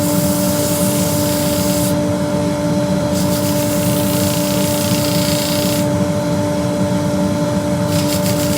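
A cherry root ball hollow form being sanded on a lathe with a 240 grit disc, with a constant close motor hum and a harsh abrasive hiss that swells and eases in stretches.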